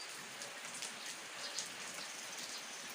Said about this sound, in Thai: ฝนตกจ้ะพี่น้อง ฝนตก ฝนตกพี่น้องนี่